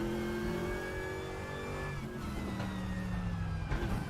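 A GT race car engine roars in the RaceRoom racing game, revving steadily with rising and falling pitch. It changes gear partway through, and the engine stays loud and close throughout.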